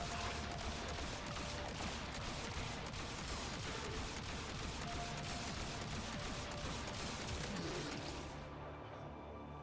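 Secondary weapon gunfire in the game Warframe, a dense, continuous rattle of rapid shots over a busy, noisy game mix that cuts off near the end, with no talking.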